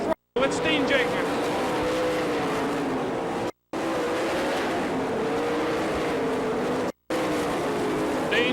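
Sprint race cars roar on the throttle around a dirt track at an All Star Circuit of Champions event in Florence, Kentucky, with a loud continuous engine drone under an announcer's commentary.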